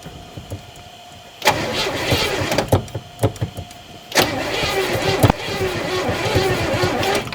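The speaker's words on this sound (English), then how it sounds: "Let's do 4 cranks on it." Vintage car engine cranking on a starter in bursts, with repeated grinding turns and short pauses between them, loud and close, with a few voices speaking over it.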